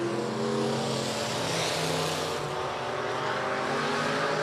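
Race cars roar around a speedway oval at the Big O Speedway, the top three running nose to tail, with a loud, steady engine drone that swells and fades slightly as they pass.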